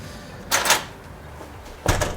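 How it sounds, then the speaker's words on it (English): A door handle on a home's door is lifted to drive locking pins into the frame, giving two short, loud mechanical clunks about a second apart. "quite important that you lift this handle. What that handle does is engage these pins into the door frame."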